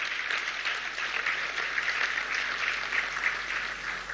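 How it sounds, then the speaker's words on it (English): Crowd at a government reception applauding a women's basketball team, dense steady clapping from many hands sustained throughout, fairly close and alone without talk. "Please, a round of applause for them"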